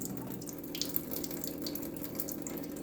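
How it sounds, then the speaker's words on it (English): Tap water runs steadily into a pot as rice is rinsed in it, a continuous close splashing wash with a few brief clinks against the pot, no voices. "I like to give the rice about 2 good washes"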